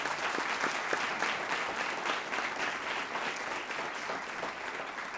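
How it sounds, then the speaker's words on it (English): An audience at a school board meeting applauds steadily, a continuous even round of clapping that holds at moderate loudness for the full stretch with no talk over it. "So let's give them a round of applause for that."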